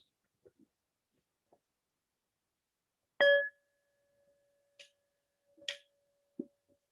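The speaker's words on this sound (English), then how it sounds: "The sound of the bell now calls us to a spirit of reverence." A single bell is struck at a Unitarian Universalist Sunday church service. One clear strike rings out with a long, steady tone that fades slowly, with a few faint knocks and rustles around it in a quiet room.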